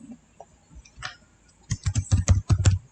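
Rapid keyboard typing on a computer keyboard, a burst of close, crisp keystrokes after a few scattered clicks, with no voice over it.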